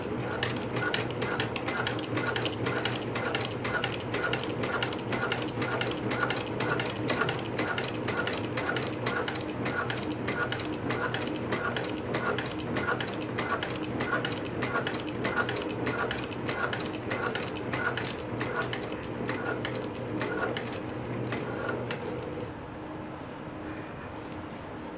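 A sewing machine stitches pants at a 3.5 stitch length with a steady, rapid mechanical clatter and hum, moderately close, running continuously for over twenty seconds before slowing and easing off near the end, with no talking.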